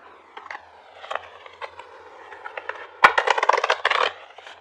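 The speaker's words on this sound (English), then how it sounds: "Let me shuffle these real quick and get them lined up." Tarot cards being shuffled by hand: soft papery riffles and scrapes, then a sharp snap followed by a dense burst of rapid card flutter, close and fairly quiet with no talking.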